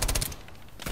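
Video game gun fires a quick, close burst of rapid shots, then pauses briefly before another shot comes at the very end.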